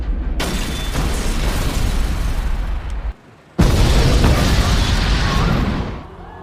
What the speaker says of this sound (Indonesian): secara mengejutkan gedung yang baru saja dia kunjungi meledak